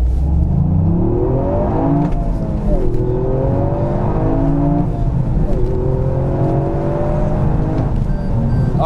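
Toyota GR Yaris Circuit Pack accelerating hard from inside the cabin, its engine note rising in pitch through several gear changes, loud and continuous throughout.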